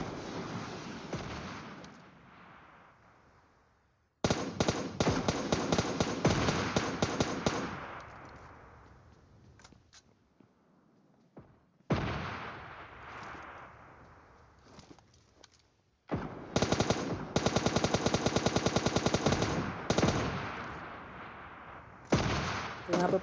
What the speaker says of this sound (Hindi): तो मैं यहाँ से M4 से मारने की कोशिश करूँगा